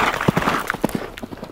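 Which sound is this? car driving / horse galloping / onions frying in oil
horse galloping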